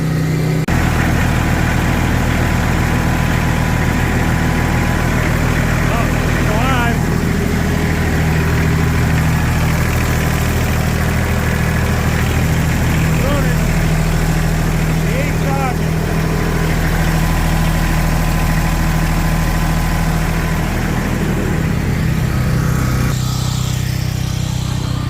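Tractor diesel engine idling, loud and close with a constant low rumble and steady hum throughout, running but not charging; someone talks over it at times.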